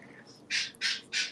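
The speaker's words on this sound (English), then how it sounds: "The bird's going crazy this morning." A pet bird squawks loudly three times in a steady rhythm, each call a harsh, bright burst close by, with faint softer calls just before them in an indoor morning setting.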